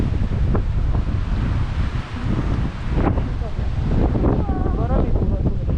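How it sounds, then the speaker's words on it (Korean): Strong wind gusts across the mountain at Namhansanseong fortress in Gyeonggi-do, South Korea, roaring loud and continuous against the microphone while people talk intermittently underneath. "바람이 불어서 그렇지"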